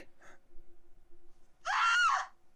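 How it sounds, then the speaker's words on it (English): A single short, high-pitched scream rises out of near silence, preceded by a faint faint breathy sound and a low steady hum. "that's a scream"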